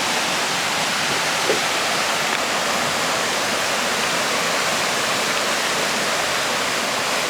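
A river in the Great Smoky Mountains rushes steadily, its close, loud, unbroken wash of water filling the whole stretch with no voices.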